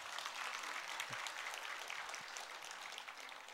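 Congregation applauding in a church during a covenant renewal service as returning members stand, a steady dense patter of clapping sustained for several seconds.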